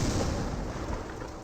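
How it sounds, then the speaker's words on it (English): Artillery creeping barrage from the Company of Heroes video game, heard as a dense, continuous rumble of overlapping distant explosions and booms, steady and fairly loud throughout. "That's a creeping barrage into that base."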